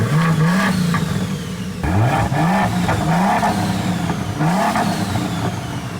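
A 2023 BMW M3 engine with its exhaust valves open revs hard in repeated loud, rising blips, with short pauses between the pulls, close by and with no talking over it.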